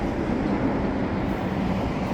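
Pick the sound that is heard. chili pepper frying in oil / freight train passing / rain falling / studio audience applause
freight train passing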